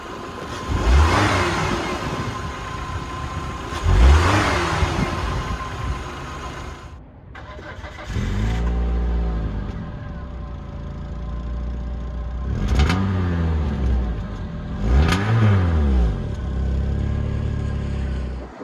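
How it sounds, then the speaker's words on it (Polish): A 2000 Chrysler Neon engine and exhaust, close up, rev repeatedly from idle, with several rising and falling blips separated by steady idling. "Posłuchamy dźwięku silnika"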